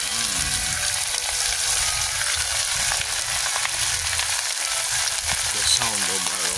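Garlic, onion and ginger sautéing in a pan, a steady loud close sizzle of frying aromatics with faint scraping, continuous throughout with speech in the background.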